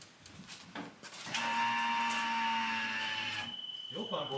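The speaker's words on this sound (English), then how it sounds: "Fuel pump works." Electric fuel pump on a 1977 Camaro Z28 priming: a steady, close mechanical whine starts abruptly and holds for about two seconds before cutting off, preceded by faint clicks and followed by brief rustling.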